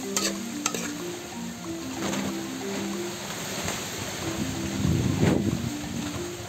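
Pork sizzling and crackling in hot oil, a steady frying hiss with occasional stirring scrapes and pops.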